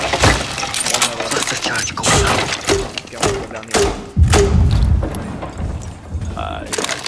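A cluster charge detonating through a floor hatch in Rainbow Six Siege: a loud burst of cracking, breaking thumps and clattering debris in quick succession, under game noise and a voice.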